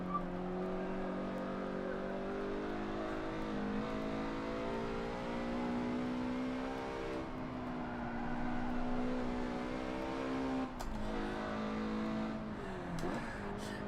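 In the Forza 7 racing game, a Mazda MX-5 Super20 engine revs and holds steady, rising and falling in pitch through gear changes and a corner. Brief tire squeal is audible amid the continuous loud engine drone.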